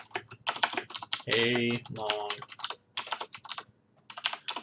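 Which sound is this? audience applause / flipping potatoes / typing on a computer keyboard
typing on a computer keyboard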